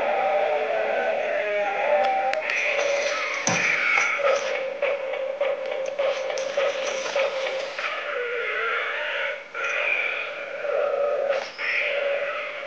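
Remote control toy dinosaur making electronic sounds: a continuous, nasal, bleating roar-like warble at steady loudness with a few brief clicks, heard alone and close up.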